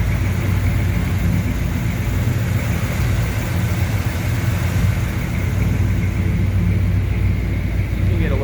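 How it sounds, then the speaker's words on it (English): A 1988 Chevrolet Suburban V8 idles smoothly and steadily with a low, continuous rumble that holds at an even level for the whole stretch, with no talk over it. "You can hear it idles very smooth."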